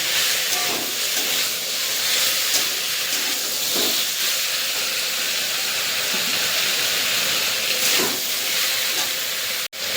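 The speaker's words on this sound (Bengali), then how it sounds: "এবার এটা দিয়ে দেবো, দিয়ে লতিটাকে ভালো করে একটু ভেজে নেবো" Boiled taro stolons (kochur loti) frying in hot oil in a pan, a steady loud hiss and sizzle with soft crackling swells, continuous and close, ending with a brief clatter.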